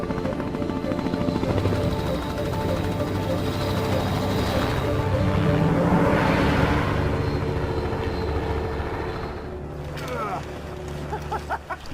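Helicopter flying into an Arctic valley, a loud, steady rotor and engine roar that swells toward the middle and stays prominent throughout, with someone narrating over it.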